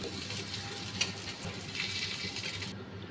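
Three large pieces of Rui fish fry in a pan with a continuous, close sizzling hiss that stays steady throughout.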